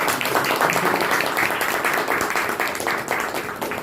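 A seated audience at an appreciative-inquiry talk breaks into loud, sustained applause, thick overlapping clapping close by that fades slightly toward the end.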